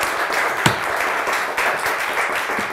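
A studio audience at a Turkish word-game show applauds in a brief, fairly loud burst of mixed clapping that stays even for a few seconds before trailing off.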